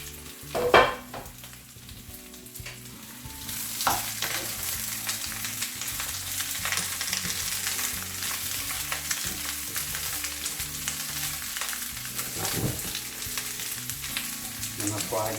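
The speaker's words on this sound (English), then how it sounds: "I'm gonna fry this all" Pepper steak frying in a pan, restaurant style, with a steady loud sizzle throughout and occasional stirring clinks and scrapes, no talking.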